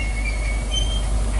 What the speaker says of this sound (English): And now the train is moving again.